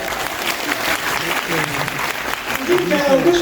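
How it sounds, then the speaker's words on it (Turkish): An audience at a Junji Ito exhibition and talk event in İzmir breaks into steady, fairly close applause for about three seconds, with a voice speaking over it near the end. "Uzun hikaye alkış."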